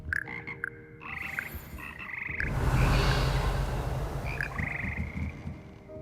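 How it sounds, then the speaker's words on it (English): Frog choir croaking in the video game Hogwarts Legacy, with sustained musical croaks holding pitched tones, a swelling rush of croaking in the middle, then lighter croaks returning, fairly quiet with no talk. "Here perch the slimy yet symphonic frogs that comprise the Hogwarts frog choir."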